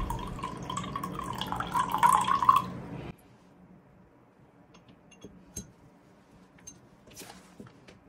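Water pours into a glass beaker while lime water is being prepared, a steady trickling fill for about three seconds that stops abruptly, followed by quiet room tone with a few faint clinks.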